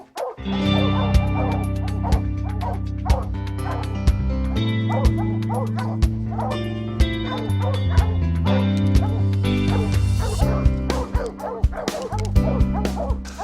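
A pack of hunting dogs bark, yip and whimper excitedly over a downed mountain lion in the Colorado mountains, a dense, continuous, loud chorus of overlapping close barks with little pause.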